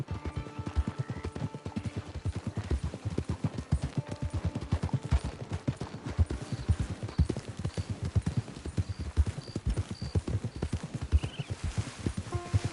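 Horse hooves clip-clop in a PS4 video game, a fast steady gallop of repeated sharp hoofbeats that carries on throughout, with a faint snort or whinny and light background music.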